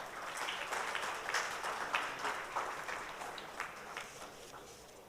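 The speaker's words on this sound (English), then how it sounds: "Please give them a round of applause." Audience at an India AI Impact Summit curtain raiser applauding AI scientists coming on stage, a broad wash of many hands clapping at moderate distance, swelling early and then thinning out.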